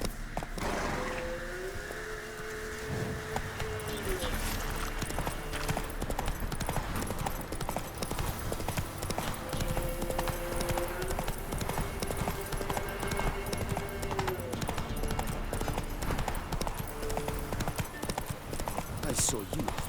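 Rapid, steady hoof clip-clops of the horse Roach galloping in The Witcher 3: Wild Hunt, running continuously under game music and voices.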